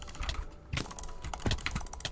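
Typing on a Redragon K630 mechanical keyboard gives a close run of quick, irregular clicky keystrokes, with a few louder key hits breaking up a steady patter.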